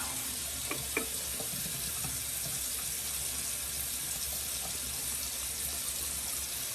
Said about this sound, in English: Let's add some water to the brush.